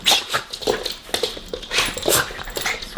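A dog whimpers and yips in short, repeated bursts across a few seconds, heard fairly close outdoors during a car meet with a JDM car's exhaust nearby.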